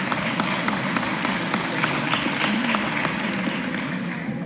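Audience applause fills a formal solemn session honouring José Gerardo Grossi and Luiz Carlos Sigmaringa Seixas, a sustained, even wash of many hands clapping throughout, heard from within the hall.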